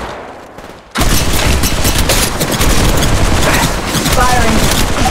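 Dense, continuous gunfire from Apex Legends Mobile during an intense multi-squad fight, loud automatic bursts and overlapping shots that kick in abruptly after a brief quieter moment and keep going to the end.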